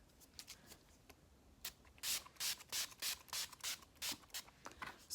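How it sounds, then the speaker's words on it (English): A series of short, sharp spray bursts from an Urban Decay All Nighter setting spray in quick succession, about eight pumps in a steady rhythm, close and fairly loud, with faint rubbing before them. "gonna set everything using this Urban Decay setting spray"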